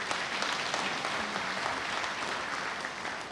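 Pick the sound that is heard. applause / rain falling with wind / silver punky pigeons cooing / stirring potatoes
applause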